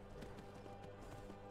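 Horse hooves in the Skyrim VR video game: a faint, fast clip-clop of galloping comes through under a steady game ambience, with no talk.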